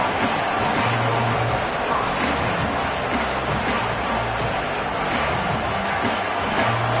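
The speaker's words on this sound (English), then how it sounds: "This crowd trying to make life miserable for this offense." Stadium crowd noise in a College Football 27 video game forms a steady, dense roar throughout, with faint commentary beneath it.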